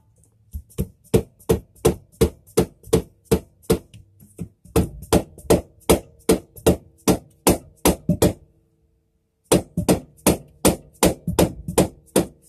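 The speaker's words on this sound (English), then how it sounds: "hit it with a hammer to make it move the correct direction" Steady, evenly spaced hammer blows ring out sharply, over twenty strikes in quick succession with two short pauses, metallic and close.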